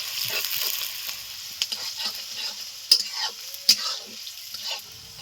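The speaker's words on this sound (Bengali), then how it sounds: "পেঁয়াজগুলো লালচে করে ভেজে নিয়েছি" Thinly sliced onions frying in oil until reddish-brown for biryani birista, village style: a soft, steady sizzle with occasional stirring scrapes and a couple of sharp clinks, close and fairly quiet, with no voices.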